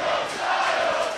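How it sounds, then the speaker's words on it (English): A wrestling arena crowd at an AJ Styles versus Cedric Alexander match splits into dueling chants, a steady loud roar of many voices carrying on without a break. "Dueling chants already."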